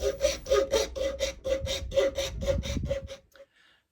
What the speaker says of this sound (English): cutting a small groove all the way around the horn